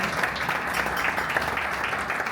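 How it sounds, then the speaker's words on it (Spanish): Steady audience applause at a book presentation for "El Pelourinho", a short continuous wash of clapping from a room of people. "Un fuerte aplauso."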